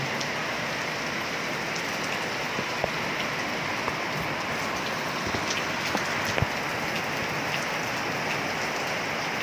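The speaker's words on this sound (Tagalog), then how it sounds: "lakas talaga ng ulan" Heavy rain mixed with hail pours steadily in a dense, even roar of drops hitting surfaces, with no voices.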